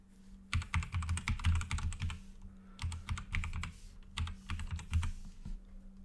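Rapid clattering keystrokes on a computer keyboard come in two or three quick bursts with short pauses between them, close and moderately quiet, with a faint steady hum underneath and no speech.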